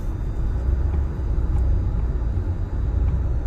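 A car climbs a steep mountain road, its engine a steady, loud low rumble that holds without a break.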